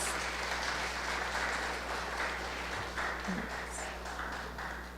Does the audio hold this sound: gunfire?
no